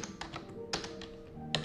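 Several sharp separate key taps on a computer keyboard, close and clear with short gaps, while a command is typed into the Anaconda prompt.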